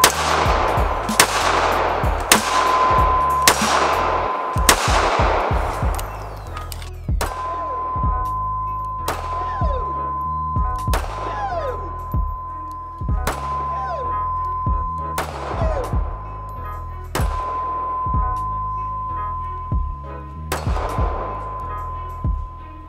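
Repeated gunshots from a Ruger LC9s striker-fired 9mm pistol, fired in quick strings of sharp, loud reports with ringing tails and occasional metallic clangs, spread across the whole stretch with short pauses between volleys.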